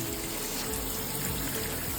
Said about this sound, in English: you can see the way that the water flows straight to the drain